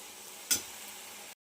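Red amaranth greens dry-fry in a pan without added water, a soft close sizzle with one brief stir scrape, then a short silence before another scrape.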